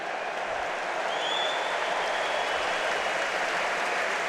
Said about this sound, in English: Round of applause from the Newcastle fans here